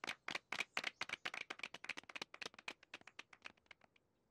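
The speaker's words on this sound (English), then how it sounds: "give a big clap for our new student" Cartoon classroom clapping for a new student, a quick, steady run of crisp hand claps, close and fairly quiet, slowing and softening toward the end, with no talk over it.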